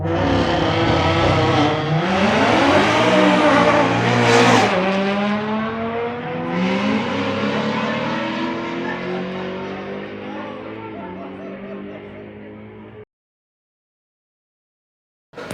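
A 1000HP Audi RS3 makes a drag strip pass, its engine roaring loudly as it climbs through several gear changes, then fading steadily into the distance before cutting off abruptly.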